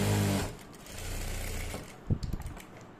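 Sewing machine stitching along the centre of a blouse neckline runs in a steady, close whir for about two seconds, followed by a few short uneven bursts as it slows.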